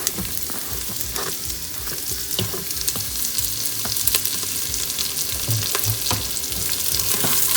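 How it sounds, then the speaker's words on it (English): Onion sautéing in a pan with spices and cashew nuts for vegetable pulao, a continuous loud sizzle with occasional scraping stirs and pops, steady throughout and rising slightly toward the end. "Time to add onion."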